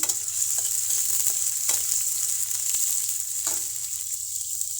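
Steady, even sizzling of chopped onion frying in hot oil, a continuous crackling hiss with occasional small pops, close up and without talk.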